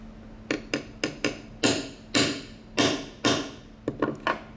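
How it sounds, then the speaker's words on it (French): A hammer taps on a wooden veneer during marquetry work, about a dozen sharp knocks, some in quick pairs and some spaced apart, close and clear in a quiet room. "Et je vais venir taper avec le marteau."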